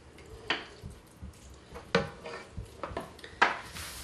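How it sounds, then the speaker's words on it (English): Utensils clatter against a cooking pot as an extra spatula is pulled out, several sharp metallic knocks and scrapes spaced over a few seconds at close range. "Let me get this extra spatula out of here."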